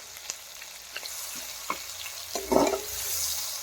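Tomato frying in a pan with ginger paste stirred in: a steady, soft sizzle with a few light utensil clinks and a brief louder bubbling burst near the end.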